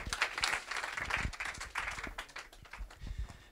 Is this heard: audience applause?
yes